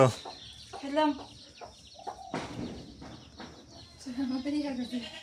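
Chickens cluck in short bursts close by, with a flutter of noise midway as a chicken flies up, and people talking faintly in the background.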